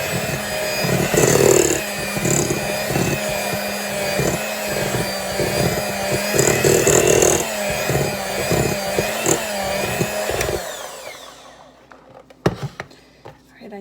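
An electric mixer whirs steadily through cookie dough, its motor hum loud and close with rising and falling load, then cutting off near the end, followed by a few clunks.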